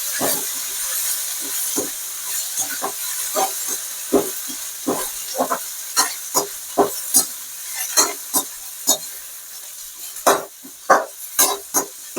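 Citron leaves with tamarind sautéing in a hot pan for a chutney, giving a steady sizzling hiss broken by repeated scraping stirs that come at an irregular rhythm, close and clear with no talk.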